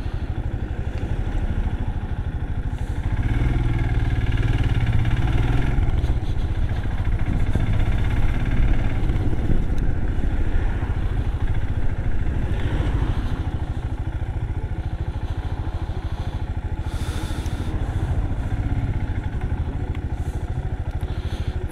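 Royal Enfield Bullet 350 motorcycle engine idling steadily in a heavy traffic jam in Bangladesh, a continuous low rumble with occasional clatter and surrounding traffic noise, no talking.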